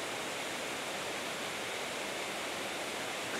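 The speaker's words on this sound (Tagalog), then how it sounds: "Papakinggan mo yung agos ng tubig." Steady, close rush of flowing water at the Beitou hot spring, a dense continuous hiss with no pauses and no voices.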